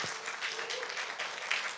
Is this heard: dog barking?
no